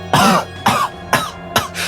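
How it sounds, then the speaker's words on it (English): Four harsh, violent coughs in quick succession, each a loud bursting hack followed by a short gasp, with no talking. "starts to collapse over, coughing violently"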